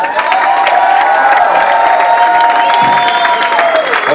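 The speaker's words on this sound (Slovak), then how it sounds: "dajte im potlesk," Audience applause mixed with crowd cheering for a helping team at a live event, loud and steady throughout, with a bright tonal whistle or feedback line running through most of it.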